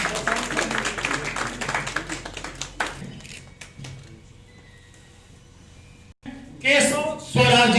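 An audience at a book launch ceremony in Muzaffarpur claps steadily for about three seconds. The clapping then fades into a quiet room, and a voice speaks at the end.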